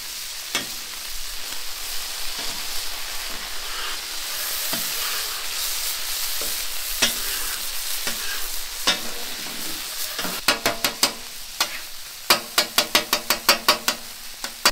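Ground beef fries and sizzles in a skillet while a utensil stirs and scrapes it to separate the grease, a steady crackle punctuated by quick rhythmic scraping taps toward the end.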